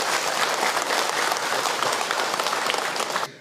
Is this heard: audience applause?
yes